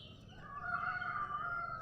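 Chickens in a backyard coop, a rooster-like call rising and holding steady for over a second at moderate distance, with faint low rumble beneath and no talk.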